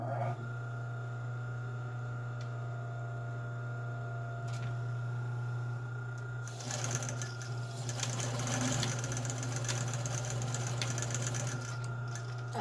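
Sewing machine tacking D-rings down with bright lime green topstitch thread, a steady close motor hum that rises into a louder, busier rattling stitch run partway through, with no talking.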